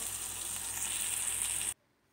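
Spices sizzle loudly in hot oil during tempering for a raw mango pulihora, a steady dense frying hiss that cuts off abruptly near the end, with no talk.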